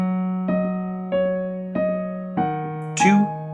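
Piano improvisation with a steady four-beat pulse: a low held tone is struck again at even intervals, with brighter chords landing on each beat, played close and alone.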